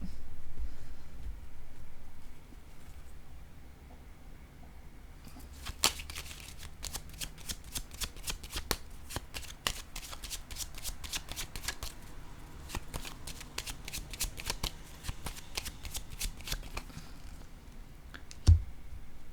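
Deck of cards shuffled repeatedly at close range, a long run of quick crisp riffling clicks after a quiet start, ending with a single sharp tap.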